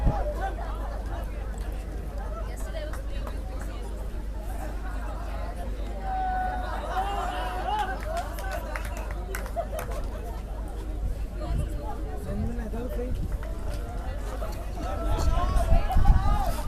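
Crowd chatter and babble from spectators at an ultimate frisbee national championship final, a steady murmur of many voices throughout, growing slightly louder near the end.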